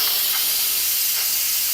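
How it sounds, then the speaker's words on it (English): Steam hisses steadily and loudly from the release valve of a pressure cooker after cooking Zuppa Toscana soup. The rushing sound stays constant throughout with no voices. "Let the steam come out of it, and so that we can pop the lid off there."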